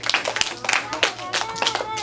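A first-grade class claps for a classmate in scattered, uneven bursts, sharp close hand claps rising and falling over about two seconds with some voices mixed in.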